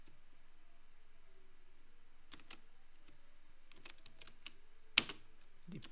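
Code is typed on a computer keyboard in scattered bursts of quiet, close key clicks, with one sharper key strike near the end against a very quiet background.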